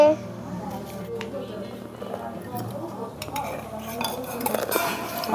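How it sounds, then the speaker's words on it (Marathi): A knife cuts a potato in a village-style kitchen, producing light metallic clinks and taps against a utensil, while someone talks over the cutting throughout. "आताही बटाटा कापते"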